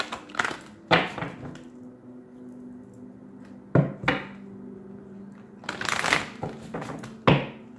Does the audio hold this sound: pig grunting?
no